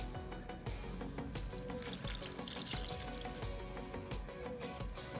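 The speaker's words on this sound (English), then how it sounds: "You fill a cup with 400 milliliters of water" Cold water is poured from a cup onto dandelion flowers for syrup, making a continuous close splashing and trickling sound that holds steady for several seconds.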